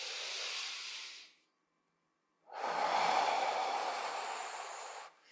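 Slow, deep breathing during a shoulder, hip and spinal mobility exercise: two long, airy breaths close to the microphone, separated by a pause of silence, the second one fuller and sustained.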